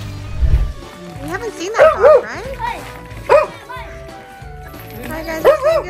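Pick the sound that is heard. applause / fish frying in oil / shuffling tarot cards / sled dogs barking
sled dogs barking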